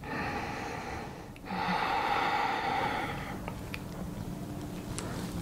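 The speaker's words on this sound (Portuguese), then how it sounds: "Respiração profunda." Deep, slow breathing during a yoga practice: a long, close airy inhale followed by a softer exhale, heard alone.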